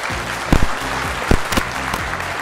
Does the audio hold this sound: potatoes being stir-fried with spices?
no